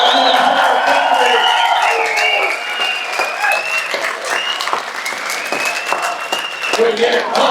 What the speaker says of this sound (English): Ladies and gentlemen, a round of applause for Adrian Woolley